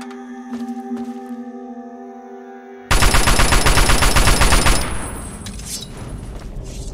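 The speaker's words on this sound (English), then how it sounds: "supposed to be like a Milsim firing line?" Sustained rapid automatic gunfire bursts loud and close on a milsim firing line in Fallout 3, starting abruptly after a droning ambient hum and tapering slightly into a dense rattle.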